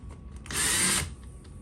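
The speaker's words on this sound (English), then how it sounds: "I just take the drill" A power drill whirs in one short, high-pitched burst lasting about half a second, close and loud, with quieter tool clicks and handling noise before and after.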